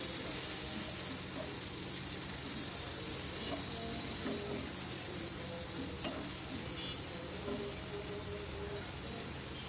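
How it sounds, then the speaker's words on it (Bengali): Shrimp fry steadily in a pan, giving a continuous bright sizzle that stays even and fairly loud throughout, with faint clinks now and then and no talking. "চিংড়ি মাছগুলো একটু ভেজে নিচ্ছি"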